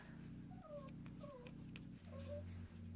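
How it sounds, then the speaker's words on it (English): A dog lets out several thin, high whimpers, each short and rising, repeated at close range over a low steady hum in a quiet room. "My poor doggy. He's not being tortured, I promise you guys."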